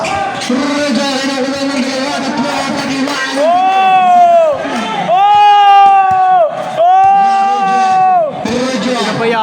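Spectators at a basketball league game shouting and cheering loudly, a dense, close crowd roar with several long rising and falling chant-like yells standing out from the din.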